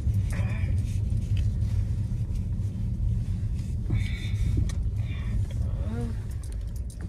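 A van bouncing along a bumpy road, heard from inside the cab: a heavy, constant engine and road rumble with occasional knocks and jolts, and a voice speaking briefly.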